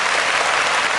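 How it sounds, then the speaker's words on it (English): Big applause from an interview audience for the artist XIT-ONLY, a dense, steady wash of clapping that holds at even loudness for the full second with no voices on top. "I want to give a big applause to"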